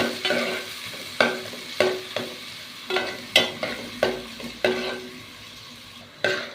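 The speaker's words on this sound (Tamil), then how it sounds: "வெங்காயம் போட்டுக்கிறேன், நல்லா வதக்கலாம்." Onions sautéing in a spoonful of ghee in a pan, a steady sizzle broken by about nine regular stirring scrapes of a spoon, close and fairly loud, no talk.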